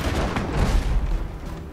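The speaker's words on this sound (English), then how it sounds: "they have a lot of cannons" Heavy booming cannon fire in the video game Abandon Ship, repeated low blasts rumbling together in a continuous loud barrage.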